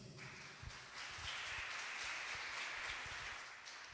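A church congregation bursts into applause that swells after a brief quiet start and then holds as a dense, even wash of clapping for several seconds.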